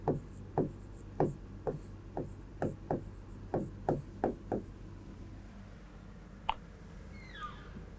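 Chalk or marker on a classroom board during a Class 10 mensuration lesson taps out a steady run of short, sharp strokes about every third of a second, then stops, followed by a faint scrape.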